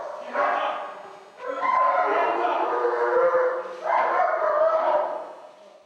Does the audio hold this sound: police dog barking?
yes